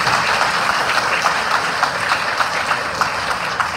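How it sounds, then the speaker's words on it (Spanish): Strong, sustained applause from a congregation at a priestly and diaconal ordination ceremony, a dense, steady wash of clapping with faint rhythmic accents running throughout. "Un fuerte aplauso para ustedes"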